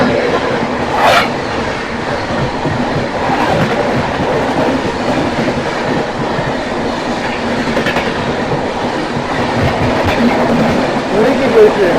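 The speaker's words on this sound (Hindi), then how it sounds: "सामने से कोई ट्रेन मेन लाइन से निकल रही है" An express train races past at full speed on the main line in dense fog, its loud continuous rumble and clattering wheels filling the whole stretch, heard from aboard another train on a long-distance journey.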